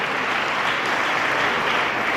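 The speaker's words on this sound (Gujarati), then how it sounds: "જોરદાર તાળીઓથી આપણે આ વિદ્યાર્થીઓનું સન્માન કરીએ." Audience applause during a student felicitation ceremony at a school campus in Amreli, dense, steady clapping from many hands, sustained and fairly loud throughout with no voices.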